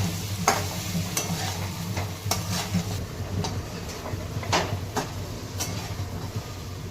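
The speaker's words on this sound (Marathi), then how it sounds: "थोडं हिंग टाकलेलं आहे तेलामध्ये" Continuous sizzle of asafoetida frying in hot oil, punctuated by sharp clicks and scrapes of a utensil, with a low rumble in the background.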